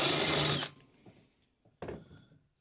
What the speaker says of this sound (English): So something you can go do with a step drill that's pretty cool is you can use it to like deburr and chamfer